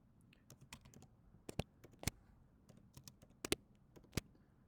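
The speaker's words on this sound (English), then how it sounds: "I want to type that in" Soft clicking keystrokes come from a computer keyboard in irregular bursts, faint and close, with a few sharper key presses standing out against a quiet background.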